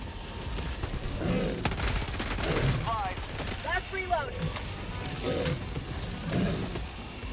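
Shooter video game firefight with repeated gunshots and bursts scattered through a noisy battle, mixed with game effects and occasional voices.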